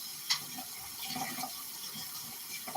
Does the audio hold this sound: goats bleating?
no